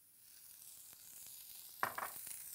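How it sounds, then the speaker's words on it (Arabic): Onion sautéing in olive oil at the start of a quick tomato sauce, a steady soft sizzle that builds gradually, with a few sharper crackles and stirring scrapes near the end. "تشويحه كده في السريع"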